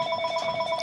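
A telephone rings steadily with a repeating electronic trill, fairly loud and alone, with pulses evenly spaced through the short moment.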